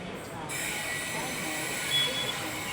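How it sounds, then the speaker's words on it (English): A train arriving at a suburban station platform in Australia: a steady broadband rumble and hiss of rolling wheels and carriages, close and continuous, with a faint high squeal partway through. "Oh, I hear a train."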